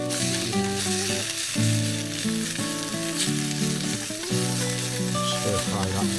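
Leftover broccoli is stir-fried in a pan at a camping spot, a steady loud sizzle largely masked by background music over a few seconds.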